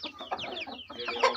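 Roosters cluck continuously at close range in a rapid, uneven series of throaty calls that are loud and clear.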